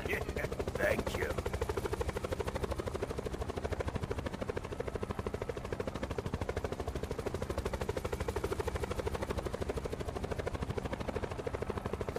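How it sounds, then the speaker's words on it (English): Helicopter rotor in a zombie-themed shooter video game, a steady fast chop running throughout at close range, with bursts of gunfire mixed in and game noise layered over it. "Whoa, I hear another helicopter."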